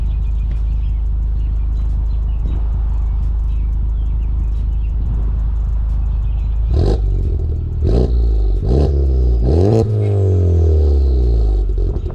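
A Honda Civic Type R engine starts loud, then revs sharply several times in quick succession, each burst rising and falling with a throaty exhaust roar.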